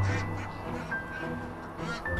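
Ducks quack repeatedly in a hobby poultry coop, close and fairly loud, with a constant background hum.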